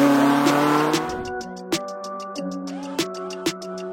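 A BMW M3 E30 Evolution 2 drives at low speed, its engine droning steadily up close with a few sharp clicks or ticks at intervals, and no voices.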